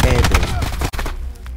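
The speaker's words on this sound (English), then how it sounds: "Guns are blazing." Guns in Black Ops 4 fire in rapid bursts, loud and close with dense overlapping cracks that thin out and fade after about a second.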